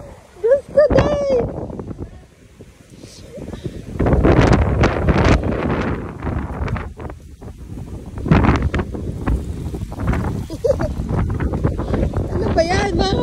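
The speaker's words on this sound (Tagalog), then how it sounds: "Makita nyo kung gaano kalakas ang hangin" Strong gusts buffet the microphone beside an outdoor hotel pool, roaring loud and rough in surging waves, with people's voices and shouts breaking through between the heaviest blasts.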